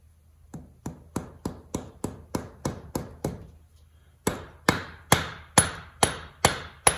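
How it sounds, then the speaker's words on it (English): Hammer tapping on the differential flange of a 1974 Triumph TR6 to free the shaft and bearing: a steady series of sharp metallic blows, evenly spaced, a brief pause, then a harder, brighter run of strikes, close and without talk. "with a little tapping here on the flange, we should be able to pull out the whole shaft"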